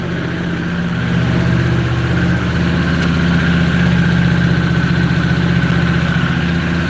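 A Harley motorcycle engine idling, a loud, close, steady low rumble with an even throbbing pulse and no talking.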